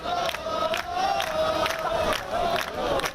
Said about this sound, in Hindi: सरकार की नीतियों और कार्रवाई से नाराज लोग एक कोर्ट के बाहर जमा होकर नारेबाजी करते दिखाई दिए।